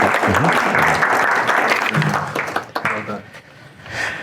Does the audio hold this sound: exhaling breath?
no